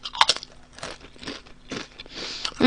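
Honey butter potato chips crunch in close, crisp bites with a few irregular chewing crackles, loud against a quiet room.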